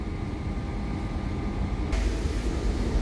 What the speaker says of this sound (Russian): поезд поехал, двери закрыли проводники